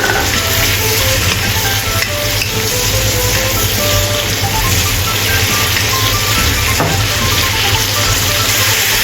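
Celery and cashew nuts stir-frying in a hot pan, a loud, steady close sizzle with continuous crackling and occasional scrapes of stirring, no speech.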